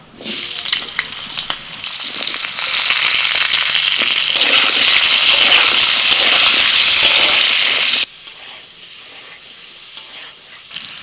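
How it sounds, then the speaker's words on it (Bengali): Potato pieces frying in hot oil in a wok give a loud, dense crackling sizzle that builds and holds for about eight seconds, then cuts to a much quieter background hiss. "কড়াইতে আরেকটু তেল দিয়ে দিয়েছি এবার আলুটা ভেজে নেব"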